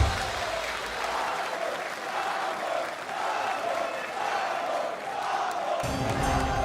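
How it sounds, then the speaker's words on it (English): A large crowd at an esports match cheers and applauds loudly and continuously, a dense roar of clapping and shouting that swells slightly near the end. "The crowd is electric."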